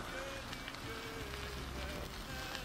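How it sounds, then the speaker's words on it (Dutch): Light rain falling outdoors on a cycling route between Angers and Nantes, a dense, steady patter of drops on surfaces, soft and continuous with faint voices underneath. "De regen valt gelukkig mee"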